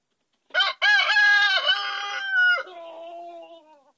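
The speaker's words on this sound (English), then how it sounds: "And roosters do not just crow in the morning. They crow all day long." A rooster crows loudly and close by, one long drawn-out cock-a-doodle-doo that rises, holds, then trails off.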